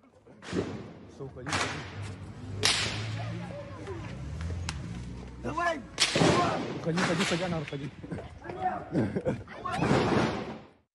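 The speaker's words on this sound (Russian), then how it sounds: "Вот первые кадры стрельбы." Sharp cracks of gunfire from street fighting on Lenin Street in Derbent ring out repeatedly in irregular bursts, echoing as if between buildings, with voices shouting and talking underneath.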